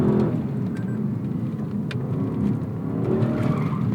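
A 2018 Lexus LC500 grand tourer slides under throttle, its engine droning steadily with a faint, brief tire chirp mixed in, recorded from inside the cabin without voices.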